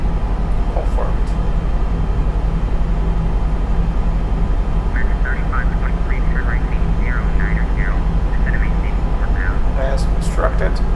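Simulated airliner engines roar steadily during a takeoff roll in X-Plane 12, a loud continuous drone running through the whole stretch, with a person speaking over it.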